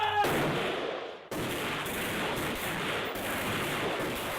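Gunfire at targets in the Modern Warfare video game, a dense, loud, continuous roar of shots after a brief cutoff, sustained to the end.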